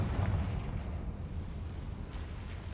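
A deep rumbling boom from the Confringo fire spell exploding in the Hogwarts Legacy video game, a low blast that fades into a rolling tail.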